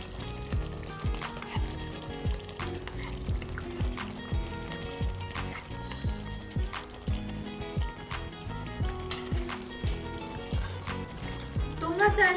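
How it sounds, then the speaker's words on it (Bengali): A paste of ground cashews and raisins goes into chicken cooking in a pan for a Bengali chicken kosha. The sizzle and wet stirring run steadily throughout, with a pulsing rhythm, over a constant tonal background. "দিয়ে দেব কাজু আর কিশমিশ বাটা"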